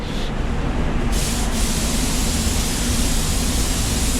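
A paint spray gun lays down a second coat of red tri-coat automotive paint with a loud, steady hiss of atomized spray. It starts after a brief moment and runs unbroken to the end.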